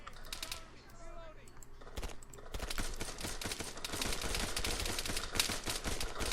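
Gunfire in an Arma 3 shootout, rapid bursts of shots that thicken into dense, continuous firing in the second half, with a person talking throughout.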